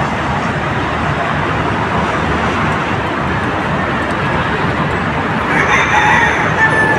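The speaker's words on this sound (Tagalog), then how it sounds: "May itlog na naman si Mia. Nanganak na naman si Mia" Hens on a rooftop in Siargao clucking and crowing right after one has laid an egg, a steady dense chorus of fowl calls with a rooster crow, faint road traffic in the background.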